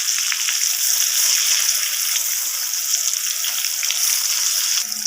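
Pieces of pointed gourd (potol) fry in hot oil, a steady close bright sizzle and crackle that holds at an even level without pause, with no talking.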